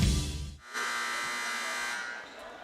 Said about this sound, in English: Buzzer has sounded. That means intermission is over.